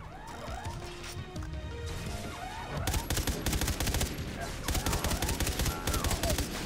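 Shooter gunfire from Far Cry 3 Blood Dragon starts as a murky game soundscape, then turns into dense, loud, rapid automatic bursts that rattle on continuously with short gaps.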